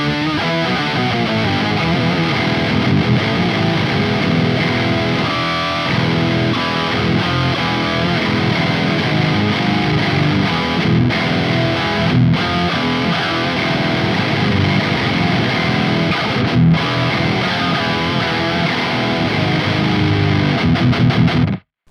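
Heavily distorted electric guitar through a Neural DSP Archetype Gojira plugin with a one-octave-down pedal engaged, playing a dense, continuous riff that stays loud and steady throughout before cutting off abruptly at the end.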